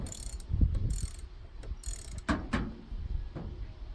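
A 25-inch Harbor Freight breaker bar ratchet wound back by hand gives a few mechanical clicks and knocks in uneven bursts, close up, with faint background noise between them.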